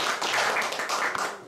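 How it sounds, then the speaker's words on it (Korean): Brief burst of audience applause at a Korean classical concert, dense clapping sustained throughout, with no talk over it. "박수 한번 부탁드립니다"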